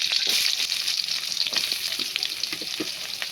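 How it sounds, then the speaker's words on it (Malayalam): Mustard seeds crackle in hot oil in a kadai, with a continuous close sizzle scattered with small sharp pops throughout, and no voices. "കടുക് പൊട്ടി വരുമ്പോൾ ഒരു സൗണ്ട്"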